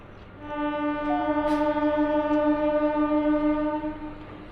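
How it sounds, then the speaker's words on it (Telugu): A MEMU express train pulls into Seethanagaram railway station, its horn sounding a long, loud sustained blast over the rumble of the train, with no voices. "సీతానగరం రైల్వే స్టేషన్కి వచ్చింది మన ట్రైన్ 1:40కి ప్లాట్ఫామ్ నెంబర్ 1 మీదకి."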